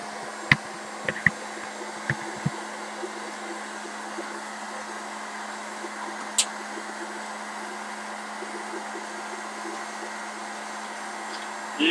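A popcorn popper roasting coffee beans gives off a steady hot-air whir like a hair dryer, broken by a few faint, sharp ticks and pops.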